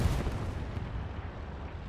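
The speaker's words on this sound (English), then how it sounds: "That was an explosion." An explosion in the World War II shooter Hell Let Loose, a deep booming blast at the start that rolls off into a low, fading rumble.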